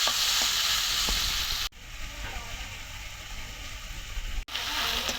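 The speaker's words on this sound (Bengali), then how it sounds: "তেল পেঁয়াজ দিয়ে দিলাম, টমেটো দিয়ে দিলাম।" Onion and tomato frying in hot oil for a mixed fish curry, a loud, steady close sizzle with stirring clinks, briefly cut off twice.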